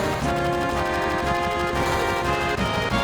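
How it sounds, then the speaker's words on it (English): Rapid gunfire rattles in Final Fantasy VII, a dense steady burst like a machine gun, loud and continuous over a layered game soundtrack. "Gunfire?"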